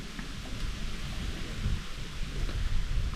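Summer rain falls steadily while low thunder rumbles in the background, a continuous stormy wash without voices.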